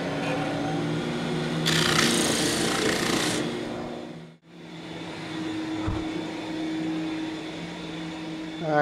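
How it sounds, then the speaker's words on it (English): A disc sander with a vacuum dust extraction system runs steadily, a constant whining drone with a brief burst of harsher grinding as work is faced flat, then a short dip before the motor hums on. "I have a vacuum system on my disc sander, so that's what you're going to hear in a minute"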